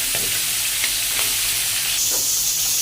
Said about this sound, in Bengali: এভাবে মুরগির মাংসগুলো উল্টানোর পরে একটা লাল লাল আকার ধারণ করবে। দেখছেন যে আস্তে আস্তে ভাজা হয়ে যাচ্ছে।